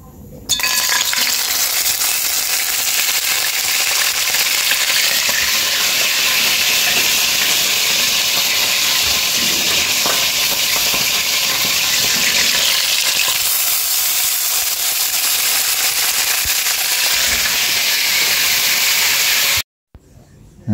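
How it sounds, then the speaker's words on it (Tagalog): Loud, steady sizzling and crackling of dried fish (daing) frying in hot oil in a pan, a continuous bright hiss with occasional pops, running without pause and no voices. "Yan, prito na tayo. Prito na tayo mga kabayan."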